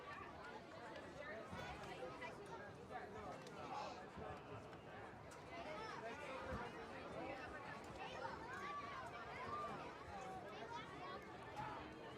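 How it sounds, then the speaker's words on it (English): Crowd chatter and babble fill the stands as fans file in for a high school football game against Pentucket, a steady murmur of many voices with nearby talk over it. "Crowd filing in here."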